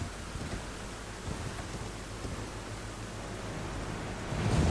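Steady rain falls across a swampy area in the video game Elden Ring, a dense, even hiss that holds throughout and swells slightly louder near the end, with no voices.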